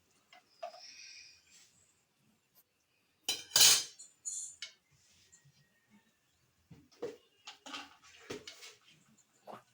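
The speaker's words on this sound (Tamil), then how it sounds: "போட்டு சும்மா லைட்டாக மிக்ஸ் பண்ணுங்க." Cooked banana flower is stirred through a pan for a South Indian kootu, with scattered close clinks and scrapes of a spoon against metal, brief sharp bursts separated by quiet gaps.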